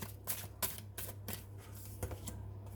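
Tarot cards shuffled by hand, a quick rhythmic series of soft riffling flicks, about eight in under three seconds, close and fairly quiet with no talking.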